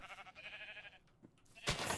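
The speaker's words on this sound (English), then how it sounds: "sheep" A sheep bleats in Minecraft, a short wavering cry up close, followed by a brief burst of bright noise.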